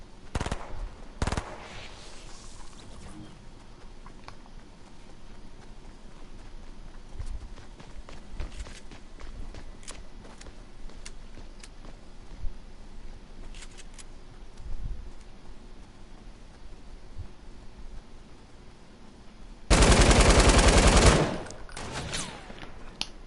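Video game machine gun fire rattles in long rapid bursts, loud and close, with a sudden harsh blast of noise near the end.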